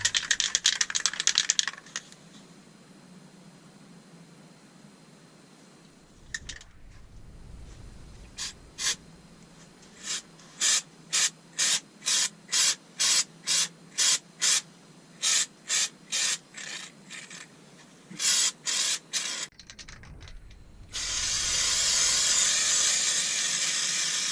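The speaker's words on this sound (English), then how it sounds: "Out comes the rattle can." An aerosol rattle can of spray paint sprays in about twenty short hissing bursts, evenly spaced and close by, used on a beech bowl being given a stone-effect exterior, ending in one long continuous spray.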